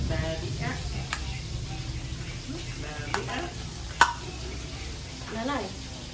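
Food sizzles in a frying pan at low volume, with occasional clinks and utensil taps over the steady hiss, and people talking nearby.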